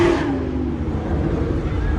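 A Chevrolet Camaro doing a burnout at a charity car meet, a loud close engine roar with a falling rev note at the start settling into a sustained rumbling drone.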